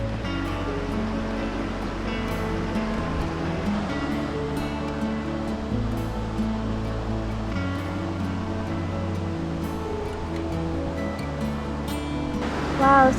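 Ocean waves surging and breaking continuously at Daraengi Village on the Namhae coast, a steady rushing wash with a faint bump of wind near the end, no talk.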